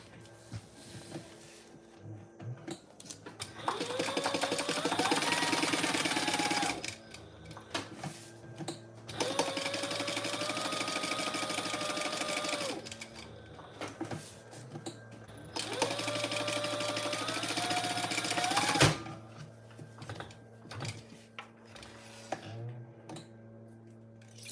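A sewing machine basts fabric along the bottom edge of a wallet in three long bursts of steady motor whir, each several seconds long, with brief quiet pauses between them.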